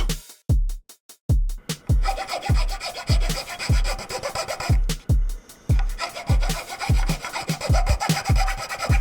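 Sandpaper is rubbed by hand along a wooden charcuterie board to shape a round-over. The strokes are loud, close and rhythmic, a rasping swish repeated roughly twice per second with a few brief pauses.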